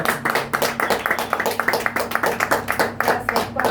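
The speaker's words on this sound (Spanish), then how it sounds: "Un aplauso." A church congregation claps steadily in a fast, even rhythm for a few seconds, the claps close and dense over a low, sustained hum.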